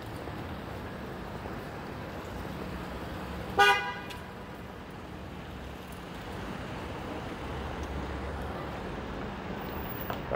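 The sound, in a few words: car horn honking in traffic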